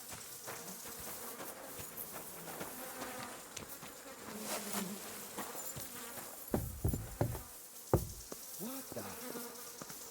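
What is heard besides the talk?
bees buzzing in video game Kingdom Come: Deliverance 2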